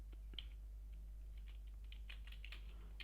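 Quiet, close typing on a computer keyboard, with irregular light key clicks under a steady low hum.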